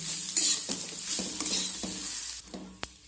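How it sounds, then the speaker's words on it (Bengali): A potato and egg paratha filling with chaat masala gets stirred and mixed in a pan, a spatula scraping in repeated strokes with sharp clinks over a soft sizzle, close by and with no talking. "এবার সব কিছু আমি ভালো করে মিশিয়ে নেব"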